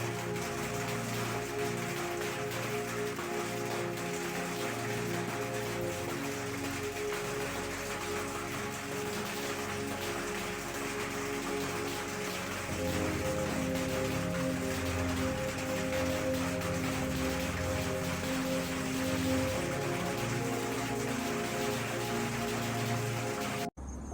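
Unseasonal rain falls as a steady, dense hiss for over twenty seconds, with a faint low hum running beneath it and no voices.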